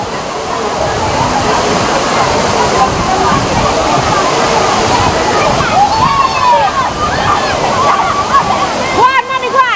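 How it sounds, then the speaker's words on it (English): Loud, steady rushing of cold river water at Dunn's River Falls in Jamaica, heard up close and continuous, with voices calling faintly over the flow toward the end. "That's the river."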